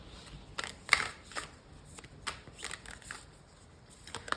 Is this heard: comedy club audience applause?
no